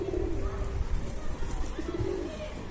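Pigeon cooing near a coop, two soft low coo phrases close by over a rough outdoor rumble of wind and handling noise, with no clear talk.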